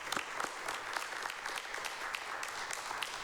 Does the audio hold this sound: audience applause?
yes